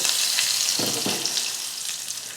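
Mustard seeds, urad dal and curry leaves crackle and sizzle in hot oil for a chutney tempering, a bright continuous hiss close by, with a couple of soft stirring clunks and no talking.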